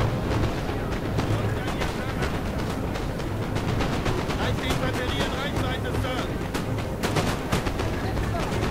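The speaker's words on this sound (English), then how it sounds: "you can see just how many shots are fired" Dense, continuous volleys of musket and artillery fire from a Napoleon Total War battle, with many shots crackling and booming together loudly throughout, the rattle barely letting up from start to finish.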